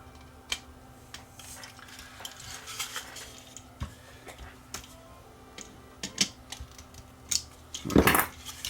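Nuts on a motor assembly from a broken thrift-store gadget are undone by hand, with scattered light metallic clicks, taps and scrapes at irregular intervals and a brief rattling jangle near the end.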